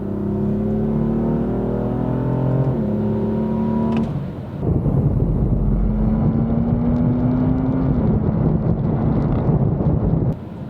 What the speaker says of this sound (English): just show, just real quick, how quick this thing picks up here beside this car